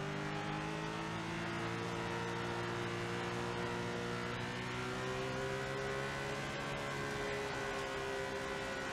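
A race car engine in the SRX racing game revs and accelerates continuously, with a rising, layered whine that climbs steadily in pitch. It is loud and close, with no talk over it.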